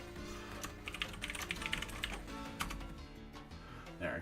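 Someone types on a computer keyboard during a coding session, a quiet, close, steady patter of key clicks with irregular bursts and pauses.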